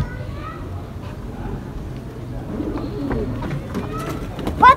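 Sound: pigeons cooing

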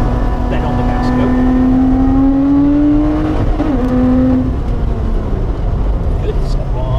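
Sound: Lotus car accelerating on track

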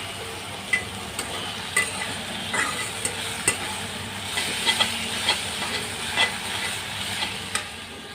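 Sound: stirring greens frying in oil

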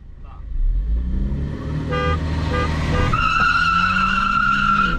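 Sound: car horn honking

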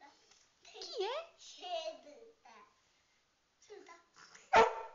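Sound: dog barking

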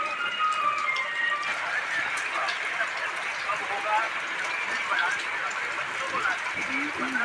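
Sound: rain falling

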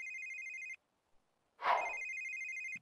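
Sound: telephone ringing in The Sims 3 video game

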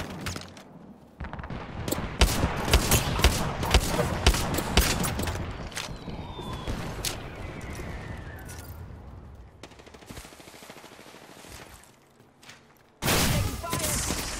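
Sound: gunfire in a video game

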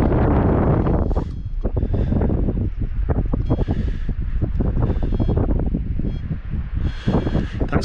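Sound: wind on the beach

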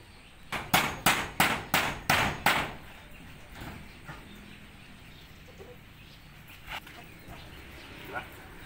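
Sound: hammering

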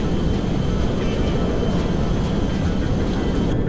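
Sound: C-5M Galaxy transport plane flying, from video game GTA 5

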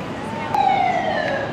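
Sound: police sirens in Boston city street

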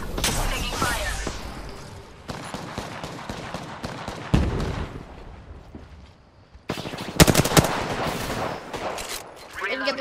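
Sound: gunfire in Apex Legends video game

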